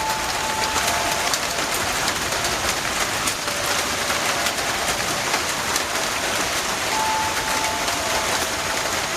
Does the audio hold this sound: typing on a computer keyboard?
no